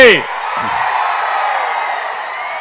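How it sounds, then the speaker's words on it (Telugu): After a brief shout from a speaker, a large crowd at a Telugu Desam Prajagalam political rally in Cheepurupalli responds with steady, sustained cheering and clapping. "గెలిపిస్తామని గట్టిగా చప్పట్లు కొట్టి"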